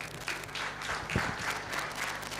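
An audience at an Agrasen Jayanti 2023 celebration claps during the release of a Latur city census booklet, a moderate, uneven patter of hands with a low background hum.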